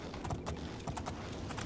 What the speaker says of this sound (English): it's nice to ride horse